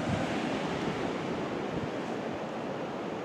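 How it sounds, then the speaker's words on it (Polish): Ocean surf rolls in at Cable Beach in Torndirrup National Park near Albany as a steady, broad wash of breaking waves with some wind noise, continuous and fairly loud, with no voices. "a plaża się nazywa Cable Beach"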